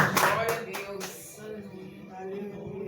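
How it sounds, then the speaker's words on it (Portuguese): A church congregation claps in praise, several distinct claps in quick succession at the start, which quickly give way to a low sustained tone and faint voices. "As palmas louvam o nome do Senhor Jesus."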